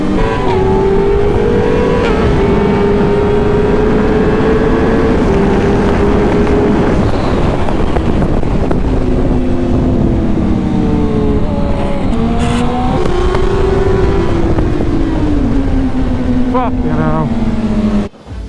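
Budget motorcycles racing on a circuit, engines screaming loudly and continuously with rising and falling pitch as the bikes accelerate and shift gears, heard close up and sustained for the whole stretch.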